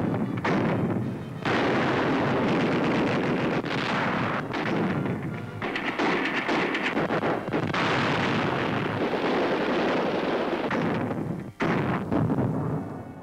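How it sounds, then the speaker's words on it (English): Artillery shelling across mountain peaks during the Aleutians campaign of the Second World War, a continuous roar of heavy booms and blasts with a sharp thud near the end, loud and dense throughout. "Artillery hurling shells across the mountain peaks."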